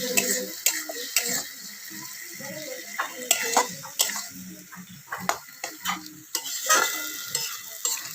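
Spices sizzle and fry in oil in a pan while being stirred, with soft scraping strokes and light clinks of utensil on metal at an uneven rhythm over a quiet background hiss; a voice talks briefly.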